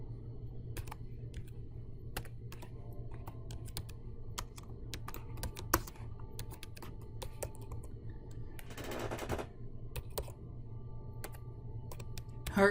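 Steady typing on a computer keyboard, quick scattered key clicks over a constant low hum, with a brief denser burst of keystrokes near the end of the run.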